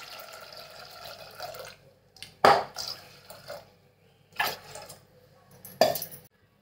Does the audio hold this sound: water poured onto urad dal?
yes